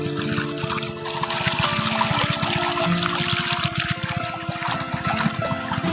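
Water poured onto brinjal plants in a village vegetable garden in rural Jharkhand, a steady, continuous trickle and splash running the whole time alongside a low, constant humming tone.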